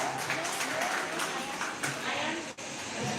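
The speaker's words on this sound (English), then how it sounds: "Let's give her a huge round of applause." Applause from an audience honouring a student winner at a school prize announcement, a dense continuous patter of many hands held steady for several seconds with a brief dip near the end.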